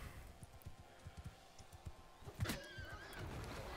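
A horse neighs loudly in the middle of a Mount & Blade: Bannerlord battle, a short whinny rising over steady in-game clatter and scattered thuds.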